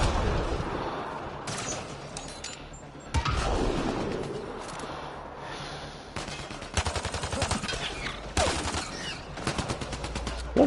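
Gunfire in a Mass Effect Andromeda battle, with sharp single shots and rapid bursts coming in clusters, some near and loud and others quieter, plus occasional booms.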